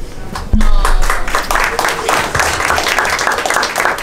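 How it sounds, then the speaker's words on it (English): Wedding guests break into loud, sustained applause after a speech, a dense crowd of clapping hands close by while someone talks over it. "Let's give her another round of applause, folks."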